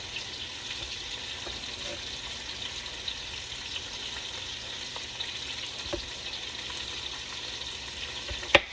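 Onion frying in a pot for Caldo Verde, a Portuguese greens soup, giving a steady soft sizzle throughout with a few faint clicks and a sharper utensil knock near the end; no one speaks.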